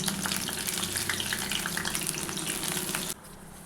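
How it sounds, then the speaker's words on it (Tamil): Potato evening snacks frying crisply in hot oil give off a dense, steady, crackling sizzle that holds for about three seconds and then suddenly drops away to a quieter hiss. "வேகும் போதே அந்த சத்தம், அந்த மொறுமொறுப்பு சத்தம் பாருங்கள்"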